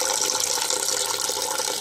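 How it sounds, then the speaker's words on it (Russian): Water drains steadily from an Electrolux Royal 50-liter electric water heater, a continuous close hiss and splash of flow, partly missing a bucket. "И вот таким макаром сливаем воду."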